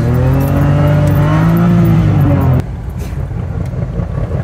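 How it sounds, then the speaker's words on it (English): A BMW drifting with a flywheel backing out, its engine a loud, steady drone with shifting tones for a couple of seconds, then a rough, gritty rumble as the pitch drops away. Any knocking is buried in the engine noise. "you hear that noise? It's my flywheel backing out."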